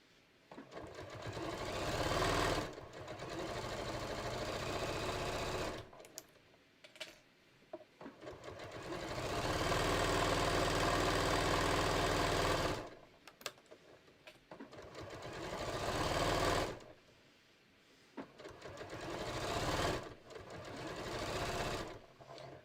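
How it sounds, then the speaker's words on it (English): A sewing machine stitches a waistband seam on a pair of shorts, running in several long, steady bursts of fast mechanical whirring separated by brief pauses. "when I get to my seam allowance, I'm going to make sure I sew over that pressed open"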